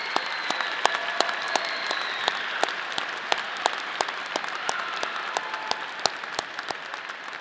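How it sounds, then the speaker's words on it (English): Applause at a college of business award ceremony for award recipients: sustained, fairly even clapping from a seated audience, with individual sharp claps standing out against the wash of sound. "Let's give all the LEAD Award recipients a round of applause"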